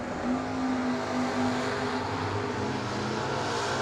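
A Gen 3 Camaro roars down a drag strip, a loud, continuous engine blast with a sustained tone early on that gives way to a broad, steady rush, with no voices.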